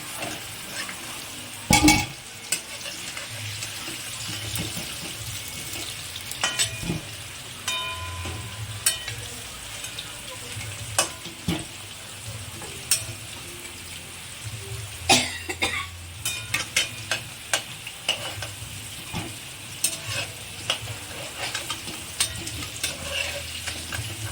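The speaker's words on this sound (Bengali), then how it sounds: "একটু নুন আর একটু হলুদ দিয়ে আলুটা ভালো করে লাল লাল করে ভাজবো।" Potatoes fry in oil seasoned with salt and turmeric for mutton kosha, giving a soft continuous sizzle punctuated by sharp spatula scrapes and clinks against the pan.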